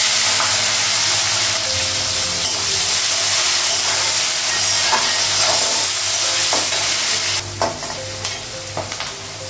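Panch phoron spices, green chilli and onion frying in hot oil, a loud continuous sizzle with stirring scrapes and clinks of a utensil against the pan toward the end.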